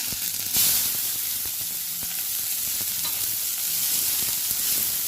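Onions frying and sizzling in a hot pan with curry leaves and cumin for a one-pot potato curd rice, a steady close hiss with faint stirring clicks throughout.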